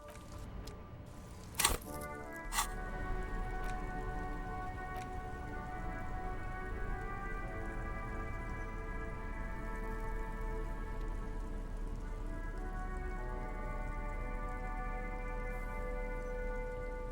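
Steady rain falls in Disco Elysium, a constant wash of patter over a low rumble, with soft musical tones drifting beneath it and a couple of sharp clicks near the start.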